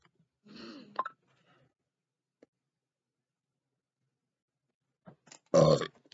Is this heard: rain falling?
no